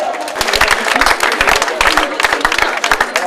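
An outdoor crowd at the finish of a trail race claps loudly for the winner, with sharp, individual handclaps close by in an uneven rhythm and voices mixed in.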